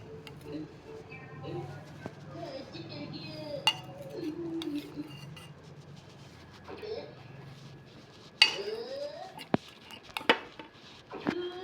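Steel plates and cutlery clink and clatter as shukto, a Bengali vegetable stew with eggplant and prawns, is served onto a plate, with scattered sharp clinks rising toward the end while a person talks quietly.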